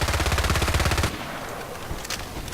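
Full-auto rifle fire from an assault rifle with no attachments in Battlefield Play4Free: a loud, rapid, unbroken burst lasting about a second, then cut off into quiet ambient game noise with a faint later rattle.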